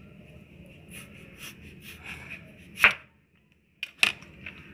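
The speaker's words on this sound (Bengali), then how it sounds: "এখন আমি পেঁপেটি এভাবে কেটে নিচ্ছি" A knife slices papaya thinly on a board, a series of soft, evenly spaced cuts followed by a couple of sharper, louder chops close by.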